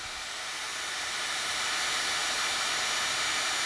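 A $10 heat gun blowing hot air onto a cloudy car headlight, a steady even whooshing roar held throughout at close range with no voices.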